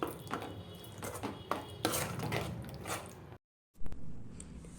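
Mango roti pachadi is mixed in a bowl with a spoon, giving a steady close scraping and clinking that continues for a few seconds, breaks briefly into silence and then resumes.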